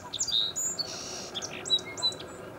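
Pennsylvania songbirds sing in quick, bright chirps and trills over a steady background hiss, several short phrases close together with no talk.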